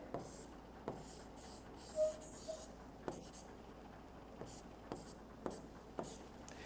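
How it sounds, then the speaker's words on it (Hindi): Marker or chalk strokes scratch across a board in short, soft bursts, close and quiet, with brief pauses between the words being written. "साफ लिख देता हूं यहां पे"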